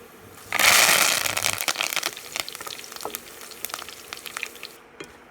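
Oil crackles and sizzles loudly as onions, chillies and curry leaves hit the pan for a wild ginger pickle, a burst of frying that settles into irregular popping and spitting.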